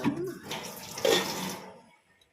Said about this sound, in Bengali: এই জলটা লাগবে না তো ফেলে দিই